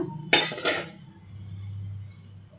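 Spices and onion mixed in a cooking pan: two sharp metallic clinks of a utensil against the pan near the start, then a low steady hum, close and clear with no talk.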